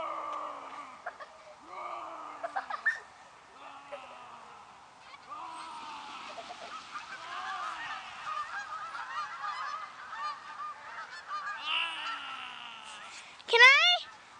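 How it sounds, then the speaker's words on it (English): A flock of geese honks repeatedly outdoors as someone runs at them and scares them off, the calls rising into a busy, overlapping clamor with a louder burst near the end; people talk intermittently. "running over to the geese and chasing them off and watching them pan out"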